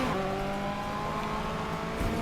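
A VW Golf GTI Clubsport engine in the racing game Need for Speed Heat drones steadily and loudly under sustained acceleration, a continuous buzzing engine tone with a faint swell near the end.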